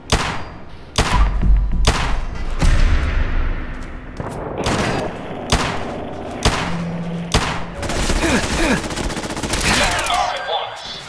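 Automated turret gunfire in Fallout 4: Automatron, with repeated loud bursts and sharp shots in an irregular rhythm, mixed with booms and thuds over continuous battle noise.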